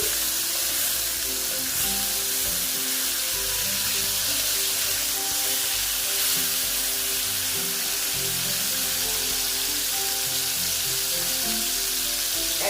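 Continuous loud sizzle and spatter of boal fish frying in hot oil, an even hiss throughout with no voices.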